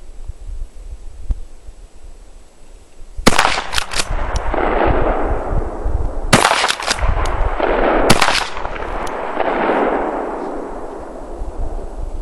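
A Benelli shotgun fires slugs at targets 25 yards away outdoors, with three loud, sharp blasts spaced a few seconds apart, each trailing off in a long rolling echo.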